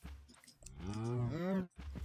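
A single drawn-out cow moo from the Minecraft video game, rising and falling over about a second, loud and close, with brief low murmuring before and after.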